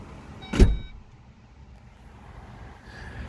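Power trunk of a 2021 VW Atlas 3.6 SE closing, a single short loud thunk near the start followed by quiet stillness and a faint hum.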